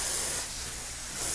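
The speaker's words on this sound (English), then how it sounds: "Spray the paint just before you get to your workpiece and let go after you've crossed over it" An aerosol spray can sends finish onto a wood project in a steady, close, continuous hiss that dips slightly midway and swells again, with no talk.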